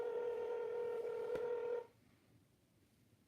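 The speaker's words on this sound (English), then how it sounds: "I hear a phone ringing" A telephone sounds a steady electronic ring tone for under two seconds, then cuts off into faint background hiss.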